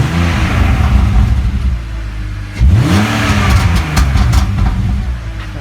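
A BMW E46 330Ci Clubsport, warmed up, revs hard twice while stationary, each loud, rising blip falling away into a rumbling idle with brief crackles from the exhaust between.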